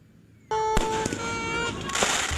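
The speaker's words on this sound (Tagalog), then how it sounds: "nang biglang nagsabugan sa baba ang mga paputok" Fireworks go off at a row of burning firecracker stalls in Barangay de la Paz, Antipolo City, with a sudden onset of loud crackling, hissing bursts and a few sharp bangs close by over a couple of seconds.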